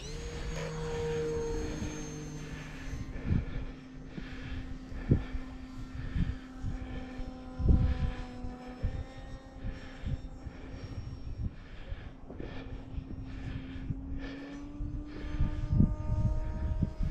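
E-Flite Timbers RC model airplane on snow floats, its small electric motor whining and revving up for takeoff, a steady high buzz with shifting pitch and bursts of throttle, fairly close and loud with no talking.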